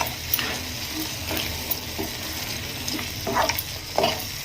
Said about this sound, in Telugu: ఇందులోకి 1 టేబుల్ స్పూన్ వరకు నెయ్యిని యాడ్ చేసుకొని ఈ మొత్తాన్ని మంచిగా ఒకసారి కలుపుకోవాలి